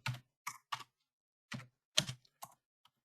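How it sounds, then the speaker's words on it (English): Computer keyboard typing: a handful of sharp key clicks in small irregular clusters, close but quiet, separated by short pauses, with no talking. "Yeah, we can type."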